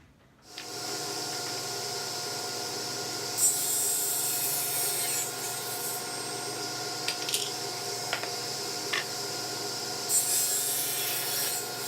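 Baltic birch rear panels for a 1x12 guitar speaker cabinet are cut with a steady, continuous sawing whine close by, interrupted by a few brief louder bursts and without talk.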